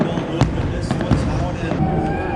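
A few sharp fireworks bangs at the Daytona 500, spaced irregularly over a busy background of crowd noise and nearby chatter.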